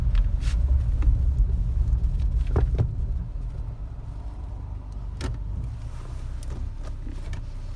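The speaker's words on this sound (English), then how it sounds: "Shifts easy into four low and back down to two high." A 1988 Dodge Raider's engine runs with a steady low rumble, louder in the first seconds and easing slightly as the transfer case shifts into four low, with a few faint clicks and knocks over the idle.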